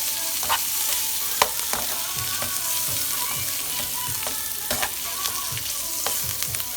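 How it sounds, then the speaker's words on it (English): Shrimp sauté in jerk sauce in a hot pan, a loud, close, continuous sizzle with scattered crackles and occasional stirring scrapes, no voices. "Just want to saute them in that sauce"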